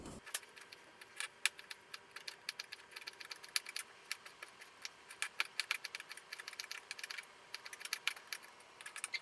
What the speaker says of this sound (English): I'm going to dice it really fine.